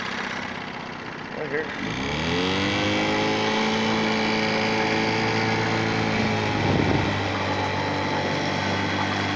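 Engine of an old four-wheel drive van rumbles up from idle and holds a steady, close drone with a brief surge near the end, while a person speaks briefly over it.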